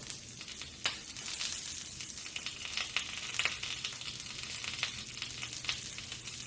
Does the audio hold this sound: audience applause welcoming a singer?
no